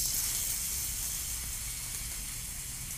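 Tuna slices searing in a hot pan give off a steady, even hiss that holds at the same level for the whole stretch, with no talking over it.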